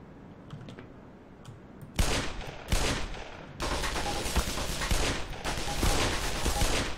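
Gunfire in the first-person shooter Black Mesa: a loud sharp burst at two seconds, another just after, then sustained rapid shooting that runs to the end over a quieter ambient start.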